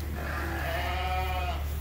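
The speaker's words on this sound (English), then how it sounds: "These are the little ram lambs that we're starting to wean." Weaned three-month-old Dorset ram lambs on a farm, a single wavering bleat lasting over a second against a steady low background hum, moderately close.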